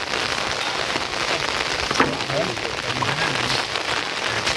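Steady rain falls hard and constant on surfaces outdoors during a Thai house-post raising ceremony, a dense near hiss with faint voices underneath.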